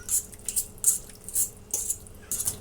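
Ground hamburger meat is stirred into spaghetti sauce in a pot, a utensil scraping and clinking against the metal in repeated bright strokes, close and moderately loud with no talking.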